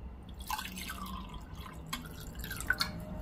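Half a glass of water poured into a cake batter bowl in a home kitchen, a soft splashing trickle with a few drips, close and fairly quiet against a faint room hum.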